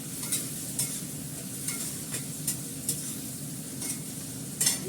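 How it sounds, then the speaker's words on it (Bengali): Onions and garlic frying in a pan, a continuous close sizzle broken by regular light scrapes of a spoon stirring every half second or so. "ভালো করে পেঁয়াজটা কষিয়ে নেব, পেঁয়াজ আর রসুনটা"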